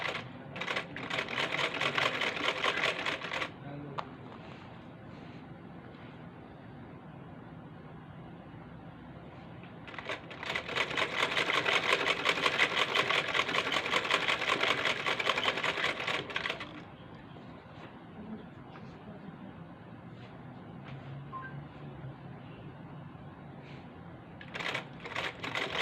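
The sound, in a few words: sewing machine stitching lace onto a kurti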